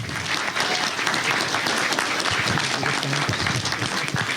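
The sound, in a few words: audience applause at forum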